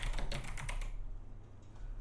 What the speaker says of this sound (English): We'll type in retro video game.